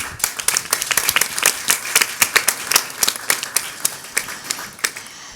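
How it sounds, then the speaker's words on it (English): Audience applause at a club culture and disability panel at a festival, a dense spray of claps filling the room steadily for several seconds with no talk over it. "And so big applause for Markus Lau."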